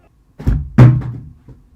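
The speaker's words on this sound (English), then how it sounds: "In fact, we're going to do a drop test now." A phone in a Casetify case dropped onto the floor in a drop test, a single close heavy thunk with a short bounce and a faint settling tap after.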